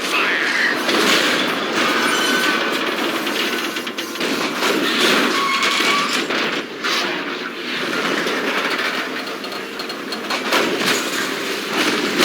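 A train rumbles past in the Grand Theft Auto V game, a continuous loud rolling roar with rattling car noise and faint wheel squeal, swelling and dipping but never pausing, with no talking.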